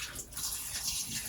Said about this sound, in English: I'm just going to pour some in the water